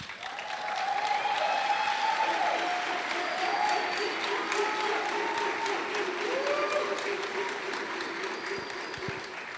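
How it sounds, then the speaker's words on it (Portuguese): A church congregation applauds steadily for several seconds, a broad, even wash of clapping with some voices and cheers rising over it. "Eu quero que você aplaude ele, o Fernando."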